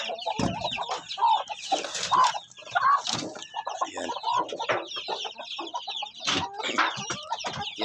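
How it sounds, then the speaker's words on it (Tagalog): A mother hen clucks repeatedly close by, short throaty calls in irregular bursts, while a voice briefly speaks over the busy coop noise. "Yan yung inahin."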